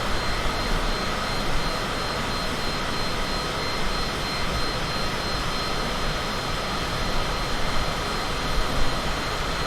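A Cessna Citation jet cruising in Microsoft Flight Simulator 2020, a steady broadband engine roar with a faint high whine holding constant throughout, no voices.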